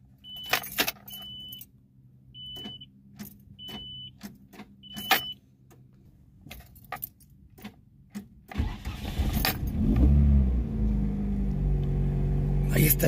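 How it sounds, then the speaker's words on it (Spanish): A 1998 Nissan car with a starting fault: keys jangle and a warning chime beeps repeatedly, then the engine cranks and catches, settling into a steady idle. "voy a probar a ver si arranca el carro"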